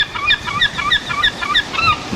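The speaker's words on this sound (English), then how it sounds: "the seagull" A seagull calling in a rapid series of sharp, repeated yelping cries, loud and close, over faint low rumbling background.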